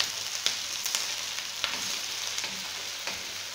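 Potatoes and onions sauté in a pan, a steady soft sizzle broken by faint clicks and scrapes of stirring, close and fairly quiet with no talk.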